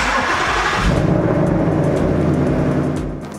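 A car engine runs steadily at close range during an automatic transmission fluid service, a loud continuous idle hum with a slight rise early on before easing off toward the end.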